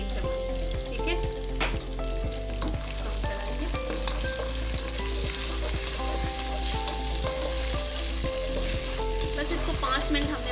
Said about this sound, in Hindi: बस इसको 5 मिनट हमने भूनना है ताकि अदरक लहसुन की जो है वो कच्ची स्मेल ख़त्म हो जाए